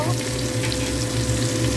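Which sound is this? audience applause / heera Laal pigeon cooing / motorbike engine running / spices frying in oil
spices frying in oil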